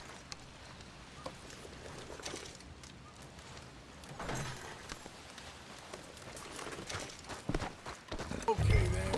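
Horse hooves clop at a walking pace in Red Dead Redemption 2 under a quiet background, growing louder toward the end, with a brief snort near the close.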